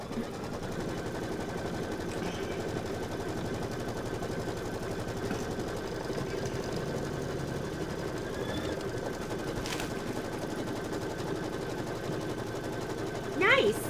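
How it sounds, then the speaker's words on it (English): An embroidery machine stitches a trimming guideline around a quilt block, giving a steady, continuous mechanical rattle that runs at an even level throughout. "Now we're going to stitch the trimming guideline, and then we're done. So it's going to stitch around the whole thing,"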